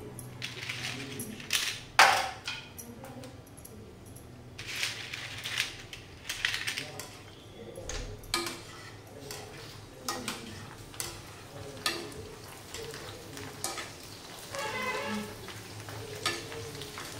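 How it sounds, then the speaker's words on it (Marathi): Panipuri puris frying in hot oil give off a soft, uneven sizzle with crackling pops and scattered ticks, fairly faint and close, with light kitchen clatter and occasional talk. "हे बघा अजून थोडंसं तळून दाखवते."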